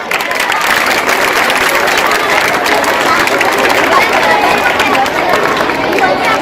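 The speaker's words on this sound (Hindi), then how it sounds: "आपकी पुरजोर तालियां रुकनी नहीं चाहिए।" Audience at a school annual function applauding: dense, sustained clapping from many hands, loud and close, with crowd hubbub mixed in and no break for the whole stretch.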